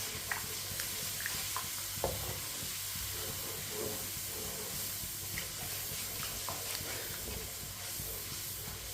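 A spoon stirs wet spice masala for masoor dal in a hot pan, with a steady hiss and sizzle broken by scattered scraping strokes, close and without talk.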